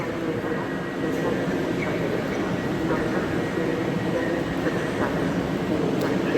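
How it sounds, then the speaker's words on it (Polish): A train stands at Łódź Widzew station, a steady low rumble of idling rail machinery that holds even and fairly loud throughout, with no clear movement. "Zaraz zapewne pociąg ten ruszy."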